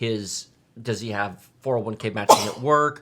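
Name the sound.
sneeze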